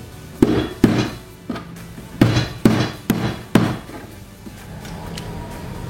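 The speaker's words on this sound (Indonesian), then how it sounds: "Lengkuasnya kita keprek aja." A piece of galangal is bruised by hard pounding, about seven loud, close, sharp thuds in an uneven rhythm, each with a brief ring, followed by quieter handling.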